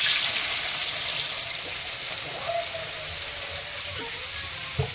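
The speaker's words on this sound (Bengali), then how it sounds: "এবার জল দিয়ে দেবো" Water is poured into a pan of frying chopped tomatoes, green chillies and salt, giving a steady broadband hiss and sizzle throughout with a few faint clinks, and no talking.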